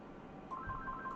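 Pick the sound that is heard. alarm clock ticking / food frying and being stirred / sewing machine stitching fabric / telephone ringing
telephone ringing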